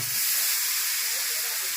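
Green ponk (tender sorghum) goes into a hot tempering of cumin, curry leaves and turmeric, giving a loud, steady hiss and sizzle that holds for about two seconds.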